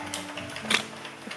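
An Addi Express knitting machine being rotated, giving a faint, brief mechanical whir with a soft click near the middle, alone without talk.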